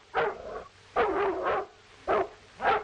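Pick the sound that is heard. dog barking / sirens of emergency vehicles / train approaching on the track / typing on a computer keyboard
dog barking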